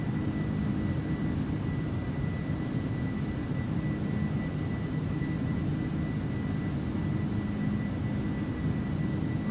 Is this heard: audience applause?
no